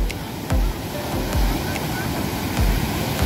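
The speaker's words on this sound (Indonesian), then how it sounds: "Di tengah menunggu ombak besar." Ocean waves at Lampuuk beach in Aceh roll and break in steady surges under a constant wash of surf and wind noise, loud and close, with no voices.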